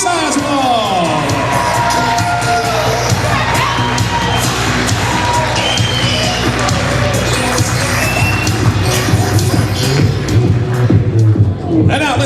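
A wedding reception crowd claps, cheers and whoops loudly and continuously for the groom's parents. The dense, close applause is mixed with shouts and voices throughout.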